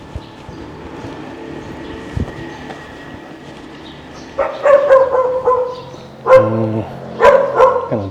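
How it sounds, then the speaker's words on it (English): A dog barks in short bursts, loud and close, three clusters of sharp barks arriving after a quieter stretch of low background hum and distant noise. "a dog that doesn't like me"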